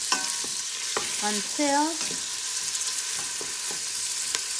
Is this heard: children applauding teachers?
no